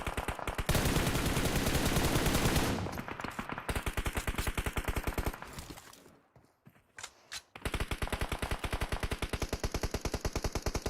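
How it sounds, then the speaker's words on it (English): Rapid automatic gunfire rattles through a battle royale match, a dense barrage of evenly spaced shots that pauses briefly around the middle and then resumes, loud and continuous without talk. "So Xenon now putting in quite a barrage of shots in the direction there of the eXiles"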